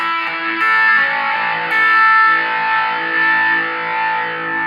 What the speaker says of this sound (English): So you can hear what the sweep sounds like with the heavy distortion again.